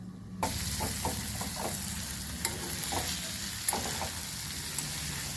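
Potatoes sizzling in oil in a pan while being stirred with spices, a steady close frying hiss with several soft scraping stir strokes and light taps throughout.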